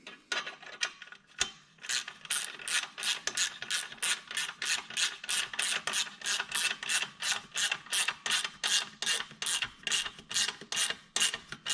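A hand ratchet tightening an exhaust header pipe clamp on a KTM 890 Adventure R, rapid rhythmic clicking strokes repeating steadily and close up in a workshop.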